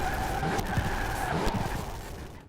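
Porsche 718 GTS in Forza Horizon 4 off the throttle, a continuous harsh, crackling static-like engine drone with skidding tire noise, loud and steady before fading at the end.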